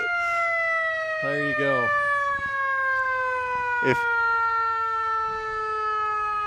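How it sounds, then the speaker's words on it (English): A fire rescue truck's siren wails at a Christmas parade, a loud sustained tone sliding slowly downward close by, with a brief horn-like blast and people talking briefly over it. "It's got the loudest siren you've heard, yes."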